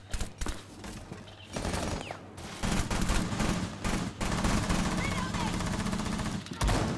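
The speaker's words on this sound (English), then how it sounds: "I hear lots of gunfire" Scattered gunfire and bursts of automatic shooting in Rainbow Six Siege pop over a dense, noisy backdrop, with occasional louder shots near the start and end.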